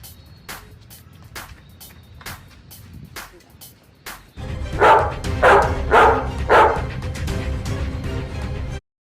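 A dog barks outdoors, first faint and distant in short spaced yelps, then louder and closer in a rapid burst of four or five barks over steady background noise.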